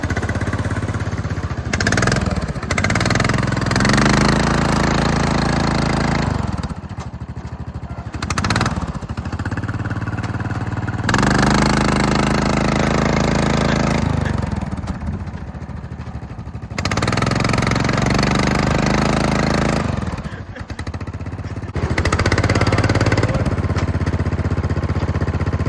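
An off-road lawn mower's engine runs in loud, uneven bursts, revving and dropping back between surges with rattling mechanical clatter, close by and with no talk over it.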